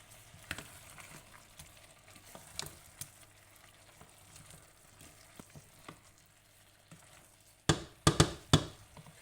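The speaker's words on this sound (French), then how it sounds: "Et on fait revenir toujours le concentré de tomate." Tomato paste fries and gets stirred in a cooking pot, giving a soft steady sizzle under scattered spoon taps, then several loud clattering scrapes near the end.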